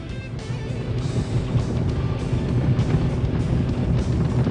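The rough-running piston engine of an A2A Aerostar 600 in Microsoft Flight Simulator drones loud and close, a low uneven rumble that slowly builds in strength across the span.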